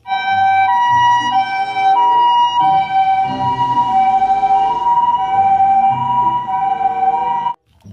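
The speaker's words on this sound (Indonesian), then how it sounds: "Lihat, ada mobil ambulan teman-teman." A toy ambulance siren plays loud and close, a steady electronic wail with a repeating two-tone pattern that runs for several seconds and then cuts off abruptly near the end.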